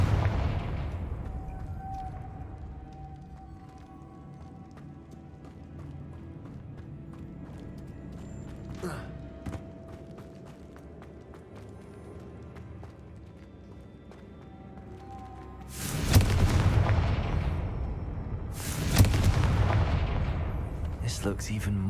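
The Confringo explosive spell goes off in the video game Hogwarts Legacy with two loud, sharp blasts near the end. Each blast decays into rumble after a long, quiet stretch of game ambience.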